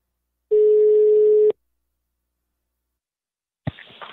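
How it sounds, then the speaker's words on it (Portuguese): Telephone call being dialed: a single steady tone about a second long, then silence, then a short burst of line noise, with no voices. "E agora eu vou ligar pra Salaquiel."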